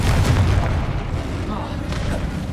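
In Hogwarts Legacy, a Confringo fire spell bursts with a loud, deep boom and a rumbling blast that fills the scene. A voice calls out the spell name over the impact.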